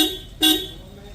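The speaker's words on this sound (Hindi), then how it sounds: "हॉर्न" A Suzuki Baleno's horn tested during a service, one short sharp honk of about a quarter second, loud and close, followed by quiet with no speech.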